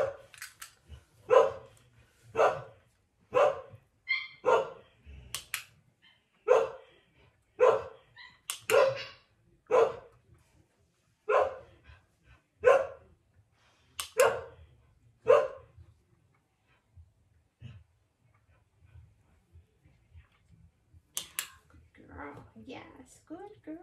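A dog barks in a steady series of loud, close single barks about once a second, then pauses while a voice praises it softly nearby.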